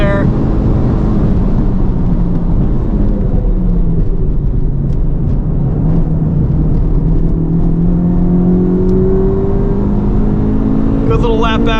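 A 2023 Honda Civic Type R FL5 making 350 wheel horsepower on RE-71RS tires pulls hard along a track, its engine note rising steadily through the gear, loud and close from inside the cabin.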